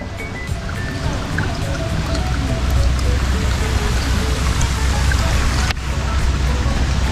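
Heavy storm rain pours steadily at a resort near a pool, a dense continuous wash of drops and splashing water, loud and close throughout with a brief break near the end.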